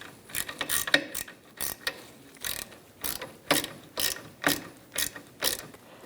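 A socket ratchet tightens a bolt on the rear wheel hub of a 2002-2006 Honda CR-V, giving repeated bursts of rapid, close mechanical clicking with short pauses between strokes and no voices.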